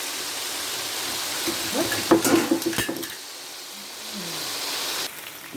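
Sun-dried beef sizzles steadily in a hot pan, with a burst of metal clattering from a utensil midway before the hiss settles quieter.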